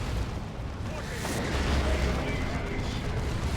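Heavy automatic weapon fire from a Terminator's assault cannon in a Dawn of War 2 3v3 match, a dense, continuous rumbling barrage of battle noise running through the whole stretch with no clear breaks.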